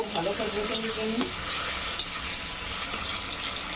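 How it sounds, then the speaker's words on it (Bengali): Tomato paste being cooked down for chilli paneer makes a loud, close sizzle while a spoon stirs and scrapes the pan, with one sharp clink midway and a steady frying hiss after it. "আর এখানে দেবো আমি টমেটা যেটা পেস্ট করে রেখেছি সেটাই দিয়ে এটা আমি কষবো"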